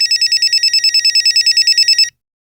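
A telephone rings with a fast electronic warble, a rapid train of short trilled pulses lasting about two seconds, then stops, heard close and alone.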